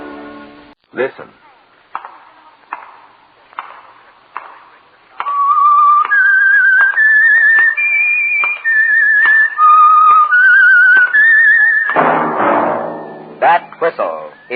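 A clear whistled melody of sustained, wavering notes plays over rhythmic chopping thuds, after a stretch of spaced knocks alone.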